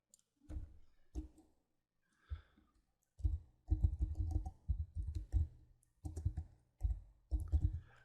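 Computer mouse clicks while navigating software menus, sharp close clicks in irregular runs and clusters separated by brief pauses, with no voices.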